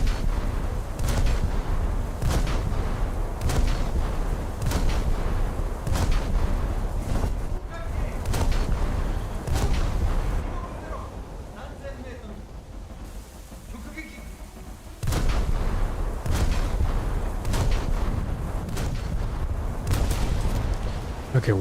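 Naval gunfire from a warship video game, with enemy frigates and destroyers firing: repeated heavy booms at an uneven pace over a constant rumbling din, broken by a quieter stretch midway, and no talking.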